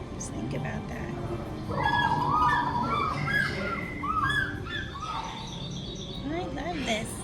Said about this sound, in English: Oh look, here's birds.